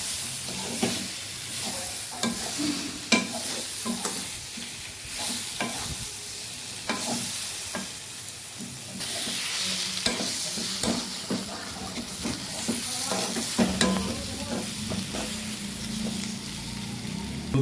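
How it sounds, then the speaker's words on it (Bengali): Potato and pointed gourd pieces sizzle and fry in hot oil in a pan for a thin fish curry, a steady hiss broken by frequent clacks and scrapes of stirring, close and continuous with no talk. "তেল তেল বেরিয়েছে, এবার আলু আর পটলটা দিয়ে দিতে হবে।"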